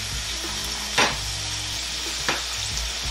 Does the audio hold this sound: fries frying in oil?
yes